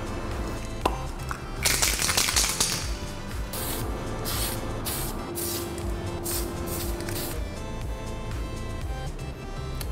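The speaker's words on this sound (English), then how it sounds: "give it a couple of clear coats and you're done with spray painting" Repeated short hissing bursts of a spray paint can applying clear coat to a Nerf blaster, several quick sprays in a row over a busy background of clatter and hum.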